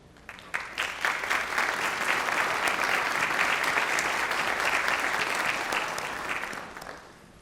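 An audience at a school district staff awards ceremony applauds board members, a dense, sustained round of clapping that swells quickly, holds steady for several seconds, then fades out.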